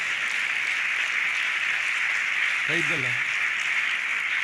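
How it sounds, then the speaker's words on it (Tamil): Congregation clapping for a pastor in a church service, a broad, even wash of applause that holds steady throughout, with a brief bit of voice rising through it midway. "நீங்கள் எனக்கு கைத்தட்டு தந்ததுல எனக்கு ரொம்ப சந்தோஷம்"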